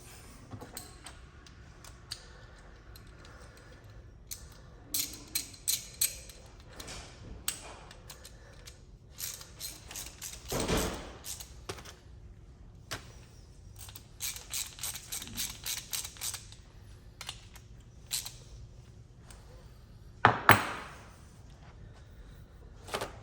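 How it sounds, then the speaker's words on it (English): Ratchet wrench clicking as it tightens a bolt during a rear shock install on a car, bursts of rapid close clicks with pauses between them, fairly quiet and with no talk. "And then that's where you want to tighten it down."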